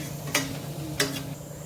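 Onion sautéing in a pan makes a low, steady sizzle, broken by two sharp metallic taps of a spoon against the pan about half a second apart.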